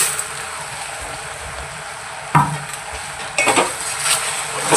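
Flattened rice (aval) is tipped into a pan and stirred with a spoon, a steady scraping and rustling broken by a couple of sharper scrapes and clinks, close and moderately loud, with no talking.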